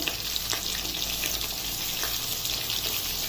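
Soya chunks fry in a small amount of hot oil, sizzling and crackling steadily in a close, continuous hiss with light stirring.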